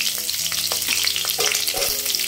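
Onion, tomato and capsicum sautéing in hot oil with chicken powder for egg fried rice: a loud, dense sizzle with repeated crackles and ladle scrapes from close by, with no voices.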